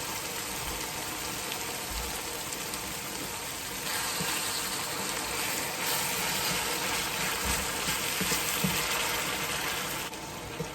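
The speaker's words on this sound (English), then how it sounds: "So here I'm about now to add some broth to this." Liquid broth pours steadily into a pot of Jamaican-style beef casserole, giving a constant hissing, sizzling wash that swells slightly partway through, close and fairly loud with no talking.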